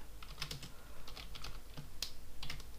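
Rapid keystrokes on a computer keyboard while HTML tags are entered, irregular close clicks and taps in quick bursts with brief pauses.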